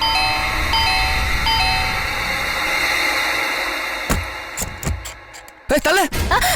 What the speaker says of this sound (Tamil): காலிங் பெல்ல புடிச்சிட்டு தொங்குறாங்க.